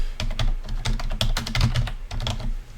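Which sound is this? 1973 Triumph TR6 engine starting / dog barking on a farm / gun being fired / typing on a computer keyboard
typing on a computer keyboard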